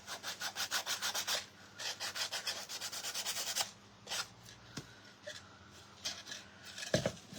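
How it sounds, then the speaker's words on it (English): Sanding a painted Dollar Tree wooden cutting board to distress it, with quick rhythmic scraping strokes close up for several seconds, then slower, scattered rubs and a sharp tap near the end. "Give it a little distressing."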